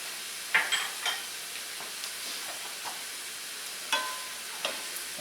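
Smoked paprika and cumin are stirred into a paella pan, with a faint continuous sizzle and a handful of scraping spoon strokes and light clinks spaced irregularly, no voices.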